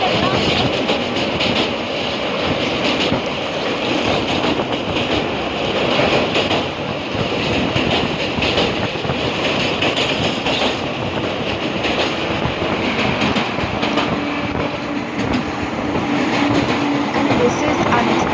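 A moving train heard from inside a carriage near the Panchakot hills, a loud, steady rumble and rattle of wheels on track that continues throughout.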